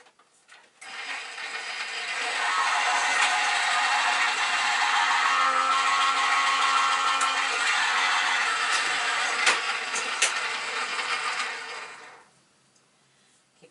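A Gemini die-cutting machine feeds card through with a steady mechanical whirring and grinding hum for about eleven seconds, starting and stopping abruptly, with faint clicks along the way and no talk.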